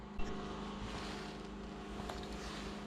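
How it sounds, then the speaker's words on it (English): A steady generator engine drone runs throughout at a constant pitch, a motor hum in the background with faint clicks over it. "Sorry for the generator noise in the background,"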